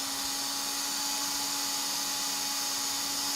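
An axle spins steadily while being lightly polished for racing, giving a loud, unbroken whirring motor drone with a constant hum and no pauses or talk.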